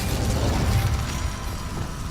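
Incendio fire spell cast in Hogwarts Legacy, a dense roaring whoosh of flame with a low rumbling burst that stays loud and steady for about two seconds before easing slightly, with no talking.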